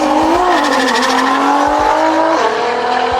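An Autozam AZ1 running at Santa Pod, its small engine buzzing loud and near, the pitch rising and falling as it revs, with a squeal of tires.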